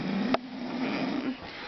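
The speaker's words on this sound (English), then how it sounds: "wolf was snoring up a storm, and the top bunk up there" Someone snores in a bunk bed with a steady, rough, low rumble that carries across the whole moment, close and fairly loud, with a brief sharp sniff or click near the start.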